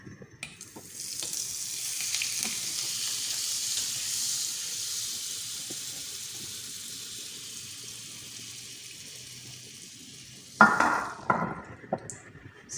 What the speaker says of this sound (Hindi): इसमें बटर डालेंगे 1 टीस्पून